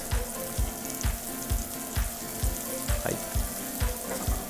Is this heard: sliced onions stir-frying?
yes